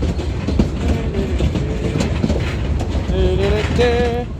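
A Cumbres & Toltec Scenic Railroad train rolls steadily past a station into a tunnel, its rumble and clatter constant and close, with squealing wheel tones rising over the last second; a voice hums faintly beneath.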